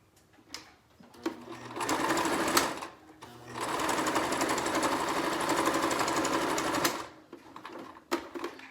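A sewing machine stitching a homemade fabric face mask, running in two steady buzzing bursts of a few seconds each, with short pauses and light handling clicks.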